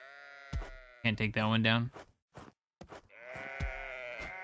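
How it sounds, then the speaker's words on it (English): Sheep in the video game House Builder bleat loudly in a wavering, drawn-out cry that stands out clearly between stretches of someone talking. "I'm gonna chop up a freaking sheep. The things are so loud."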